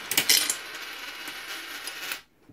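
A quarter and candy clatter down inside a 1985 Carousel gumball machine bank, a bright metallic rattle of several quick hits that settles and stops, close and fairly loud with no talking.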